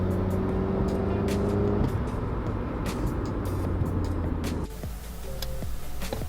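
A Honda Civic Si running on its stock header while driving, a steady engine drone with road noise heard from inside the car, the tone shifting partway as the revs change, with faint clicks over it.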